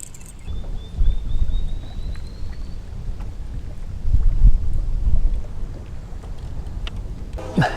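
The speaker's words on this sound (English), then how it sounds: "the wind's picked up just a little bit" Wind gusts across open water as a storm blows in, a low rumbling buffet against the microphone that swells and eases in waves, with faint lapping and splashes around a small fishing boat at night.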